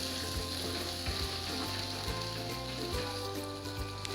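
Onions fry in a pan for Mughlai chicken, giving a soft, continuous hiss and sizzle with a few faint knocks from stirring, quiet and even throughout.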